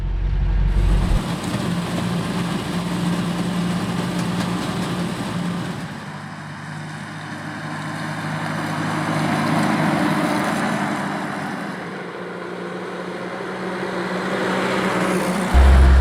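Soviet UAZ-69 jeep with a manual gearbox, its engine droning steadily under load while driving, with pitch and loudness dipping and rising as gears are shifted, heard close and continuous.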